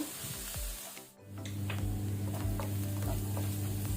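Onions fry in a pan for paneer masala with a steady close sizzle and scraping stir, a brief dip near the start, then continuous even frying with no talk.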